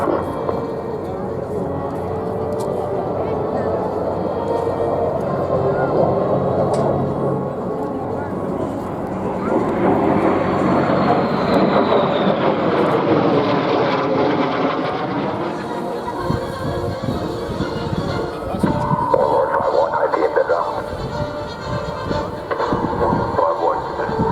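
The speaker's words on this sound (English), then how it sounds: "that is the Cobra that we see trailing the three helicopters out in front of us" Cobra attack helicopter trailing three other helicopters at the Marine Corps Air Station Beaufort airshow in South Carolina, a steady rotor and engine roar sweeping past with wind buffeting, heard beneath continuous talk over the crowd.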